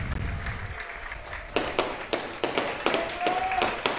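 Spectators applaud at the official farewell of Argentine lower-league defender Darío Carpintero, a steady run of distinct, moderately loud claps over a murmuring background.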